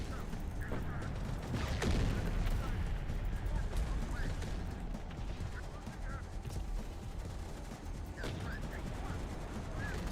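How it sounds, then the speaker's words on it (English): Artillery fire booms and gunfire rattle in the strategy game Terminator Dark Fate Defiance, with repeated thuds and bursts over a constant battle din while a voice talks over it. "Oh, he just got hit by a friendly artillery."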